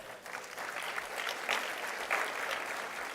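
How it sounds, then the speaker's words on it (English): An audience at a leadership luncheon gives a round of applause, with many hands clapping in a full, steady wash that swells slightly in the middle, heard clearly without talk on top. "let's give them one more round of applause"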